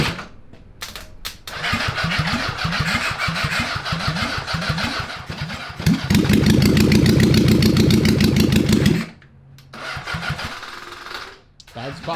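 An abandoned four-wheeler with a swapped-in 750cc engine cranks with the choke on, sputtering in rapid bursts before catching into a loud, rough running roar, then dropping off, with voices nearby.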